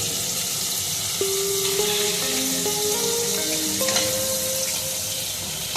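Salted shrimp, squeezed of water, hits hot oil in a frying pan during fried-rice cooking, giving a steady close sizzle that runs throughout with a faint melody underneath.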